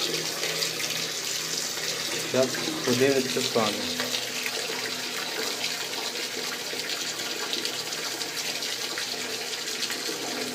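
Tap water pours steadily into a bathtub, fed hot from a gas boiler, a loud continuous rushing that fills the room while someone speaks briefly over it near the start.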